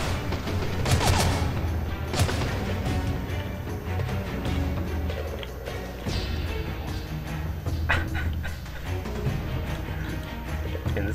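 Enemy gunfire in the stealth game Mark of the Ninja, dense rapid bursts of shots and booms over a continuous loud game soundscape, with sharper cracks standing out near the start and around the middle.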